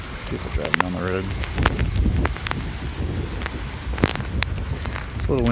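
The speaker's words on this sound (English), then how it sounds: "It's a little windy." Gusty wind buffets the microphone outdoors during flooding in Merritt Island, Florida, a steady low rumble with irregular thumps, a few faint voices briefly audible.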